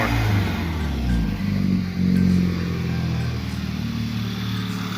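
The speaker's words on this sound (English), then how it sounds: "You hear the blow off a lot more." A VW GTI engine revs and surges in repeated waves, a loud mid-pitched drone that rises and falls with throttle, with turbo blow-off hiss between pulls.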